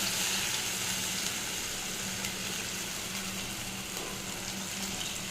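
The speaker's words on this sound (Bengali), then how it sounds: "এবার জল দিয়ে দেবো।" Water runs into a pan of sizzling fish curry, a steady close hiss and splashing wash that holds evenly throughout with faint crackle underneath.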